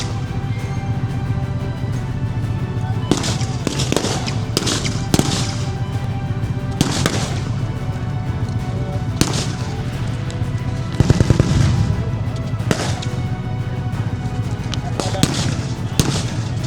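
Grenade blasts and gunfire crack repeatedly across a WWII battle reenactment arena as Allied infantry attack German infantry, sharp bursts scattered over steady crowd and field noise, with talk underneath.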